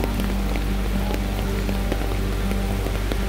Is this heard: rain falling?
yes